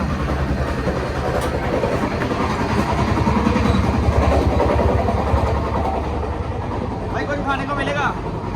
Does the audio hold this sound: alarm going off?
no